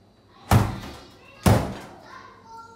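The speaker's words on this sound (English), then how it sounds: "I think the fridge door can be the perfect kick sound" A fridge door is slammed shut twice, about a second apart, each a deep, close, punchy thud used as a kick drum hit, with a quiet room between them.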